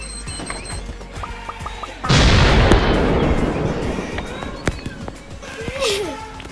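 A sudden loud in-game explosion at about two seconds breaks over busy Mini World game sounds and voices, rumbling and decaying for several seconds as the action continues.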